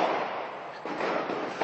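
Loud, distant blast rumble and crackling debris noise from an ammunition depot exploding in Afrin roll continuously, with a fresh burst of noise partway through and another near the end.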